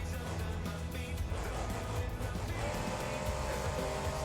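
Monster truck engine roaring steadily in BeamNG.drive during a freestyle run with airs and backflips, a loud continuous drone with tire noise throughout, no pauses.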